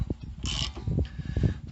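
A ratchet wrench turns a 15 mm bolt on the rear brake of a 2007 Chevy Uplander. It gives a short burst of quick metallic clicking, close and clear, among soft knocks from handling the tool.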